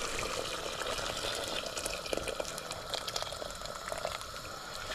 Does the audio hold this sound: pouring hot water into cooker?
yes